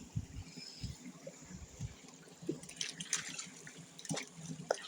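Water trickles and gurgles outdoors during rock hunting, making irregular close splashes and drips with small bursts of flow.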